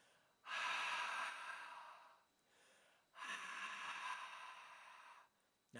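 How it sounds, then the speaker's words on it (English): Ujjayi breathing with a constricted throat, as if fogging a mirror: two long, breathy hissing exhales, each lasting about two seconds, close and clear, separated by a quieter inhale. "the best way to get into ujjayi or constricted nasal breathing is to picture fogging up a mirror or a piece of glass"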